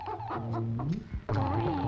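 A live chicken clucks several times in quick, uneven bursts, close and fairly loud, with a sharper squawk after a short pause.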